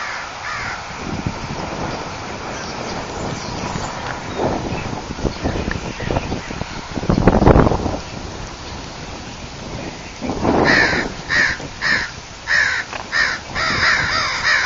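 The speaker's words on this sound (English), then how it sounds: "There's another blackbird over there." Birds calling from a tree on a city street corner near a hospital, with a burst of repeated harsh caws toward the end, loud and close, over steady outdoor background noise.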